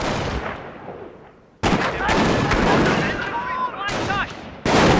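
Loud battlefield gunfire in Company of Heroes, dense rifle and machine-gun bursts in close clusters, with short gaps between volleys and faint radio-style chatter mixed in.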